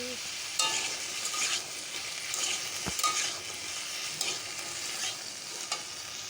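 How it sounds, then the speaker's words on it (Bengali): Potato pieces sizzle and crackle in hot oil, with occasional scraping stirs against the pan; steady frying noise throughout, close and fairly loud. "দেখো আলু ভাজতেছি"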